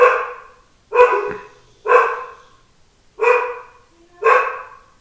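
A dog barks five times in a slow, uneven rhythm, each bark loud and close with a short ringing tail, heard alone with no talk.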